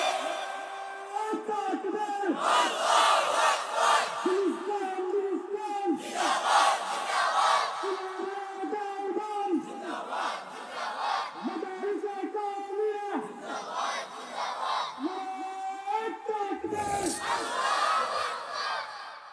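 A large crowd at a Bengali Islamic sermon gathering shouts the takbir in unison, loud roaring bursts answering a lead voice in a repeated call-and-response rhythm about every three seconds.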